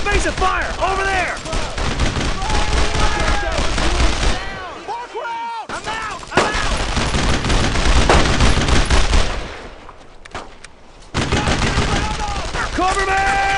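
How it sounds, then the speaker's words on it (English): Heavy gunfire in Brothers in Arms: Road to Hill 30, dense bursts of rifle and machine-gun shots crackling close and loud, broken by brief lulls, with shouted voices in the mix. "Heavy fire!"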